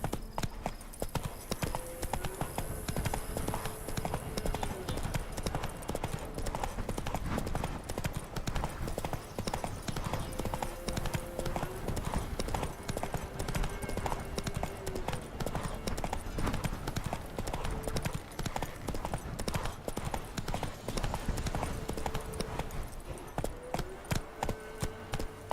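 Roach, the horse in Witcher 3, trots along with steady, rhythmic clip-clop hoofbeats that carry on for the whole stretch, close and even, while soft tonal game sounds sit underneath.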